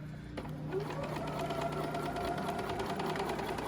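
A sewing machine runs steadily, stitching a quilt block seam with a rapid even mechanical whir and clatter, close and continuous without talk.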